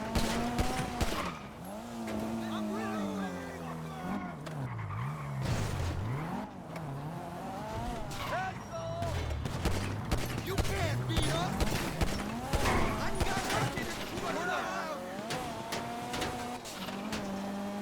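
A car in Grand Theft Auto V, a heist getaway car, drives with a rising and falling engine drone, plus tire skids and sharp bursts, set against background music or game sound.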